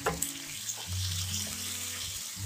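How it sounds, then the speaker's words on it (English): Two small chopped tomatoes frying in a pan for paneer bhurji give a steady, close hiss of cooking, moderately loud, with a low hum beneath and no voices. "cook the tomatoes until it becomes soft and dry"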